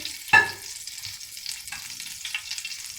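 Grated coconut for Punjabi panjiri roasts in desi ghee, with a sharp clatter at the start followed by a low, even sizzle and light stirring scrapes.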